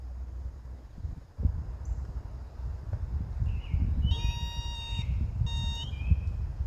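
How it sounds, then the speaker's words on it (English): Two bursts of high electronic beeping from a metal detector being fine-tuned at a sawmill, a steady tone repeating rapidly, over a low rumbling background of wind or handling noise. "You turn the fine tuning down till it beeps,"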